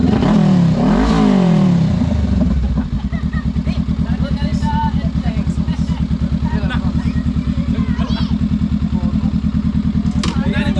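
A big-bike motorcycle engine revs loudly and close by, then settles into a steady, rapid throbbing idle that runs unbroken to the end.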